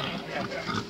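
Piglets grunt and oink in a cartoon, a short, busy burst of close snuffling squeals lasting about a second, with possible faint voices underneath.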